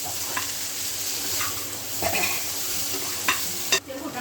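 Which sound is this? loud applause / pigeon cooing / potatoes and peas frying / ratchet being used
potatoes and peas frying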